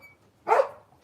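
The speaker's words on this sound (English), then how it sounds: "Why is my dog barking? And why is the neighbor's dog barking?" A single short dog bark, fairly close and clear, alone against a quiet background.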